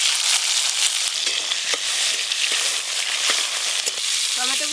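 Chopped tomatoes fry in mustard oil with panch phoron in a pan as a fish curry is started. A loud, steady close sizzle runs throughout, with scraping stirs and clinks from the spoon.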